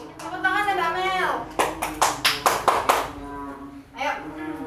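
Children in a classroom clap hands together during an Islamic jurisprudence lesson: a short run of about seven loud, rhythmic claps, with a teacher and children talking before and after.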